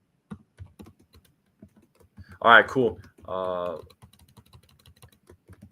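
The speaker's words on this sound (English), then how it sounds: "I'm just typing something real quick." Light, rapid clicking of computer keyboard keys runs faintly throughout, with someone briefly speaking over the middle of it.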